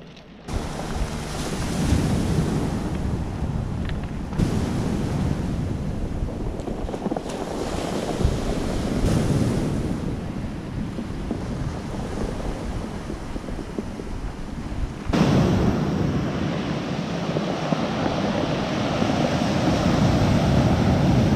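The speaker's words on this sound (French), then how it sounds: "Il y a une telle houle qui rentre comme ça." Sea swell and waves roll in near the coast at Calvi, Corsica, a continuous rushing wash with surges, heard from a boat with rumbling microphone wind noise and no talking.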